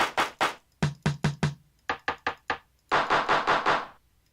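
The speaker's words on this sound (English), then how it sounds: "these are the drum sounds from the old school Linn drum machine" Sharp, punchy hits from a vintage Linn drum machine in quick bursts, crisp snappy strikes with short gaps between groups, a few carrying a low thump.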